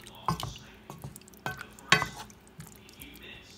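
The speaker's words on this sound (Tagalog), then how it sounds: "Tapos ihalo natin." Noodles with vegetables stirred in a pot, several distinct scraping and clacking strokes spaced irregularly, close and moderately loud amid soft bubbling.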